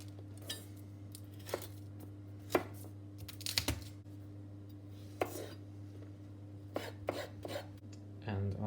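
A knife slices garlic steadily on a cutting board, a series of irregular taps and cuts over a low steady hum, fairly close.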